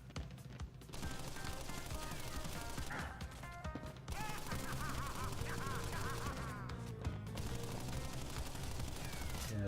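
Machine gun fire in the Crash Bandicoot remastered trilogy, a dense, sustained burst of rapid shots and crashing impacts over game music, loud and nearly continuous with brief gaps.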